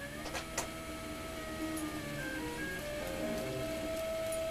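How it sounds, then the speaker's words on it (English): A 3D printer lays down white base material, its stepper motors whining in shifting steady tones. A few light ticks sit near the start, all heard close up and fairly quiet, with no speech. "See if I can get a little bit closer view here of it printing."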